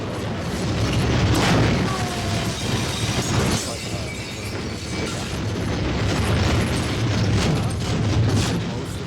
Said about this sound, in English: Firecrackers are going off.